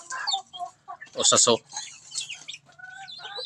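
A Rhode Island chicken clucks in short, close bursts with a louder squawk in the middle, while someone talks briefly around it.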